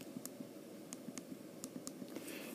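Quiet, crisp clicks from an iPhone 5's volume buttons pressed inside an Orbino Pantera case, about a dozen small taps in an uneven rhythm over a faint hiss, close to the mic, with no talk.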